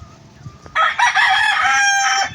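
An Asil cross rooster crows loudly and up close, one long strained call lasting most of the moment, after a quieter stretch of farmyard background.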